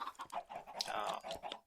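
Chickens on a large automatic Minecraft-style game chicken farm cluck in a busy, overlapping chatter of short calls, moderately close and fairly quiet, with no voices.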